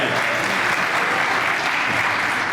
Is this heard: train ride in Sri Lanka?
no